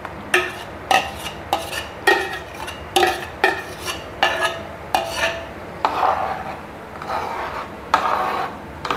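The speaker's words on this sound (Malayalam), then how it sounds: "ഇളക്കിക്കൊണ്ട് ഇരിക്കണം." A spoon steadily stirs thick halwa in a pan, scraping and knocking against the metal in an even rhythm of roughly one stroke per second, close and clear with no talk.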